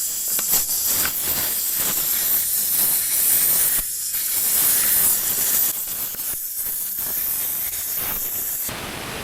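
Air hissing steadily out of a tractor tire through its open valve stem with the valve core removed, a loud, continuous close-up rush that barely varies for the whole stretch, with no talking.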